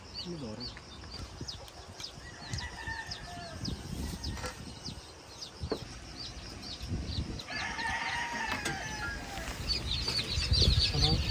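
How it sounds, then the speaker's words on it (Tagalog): Many day-old chicks peep in rapid, overlapping high chirps, heard close and steady throughout during marking ahead of vaccination, with soft human voices and handling noises mixed in. "So ito po yung mga sisiw no, na ating minamarkingan."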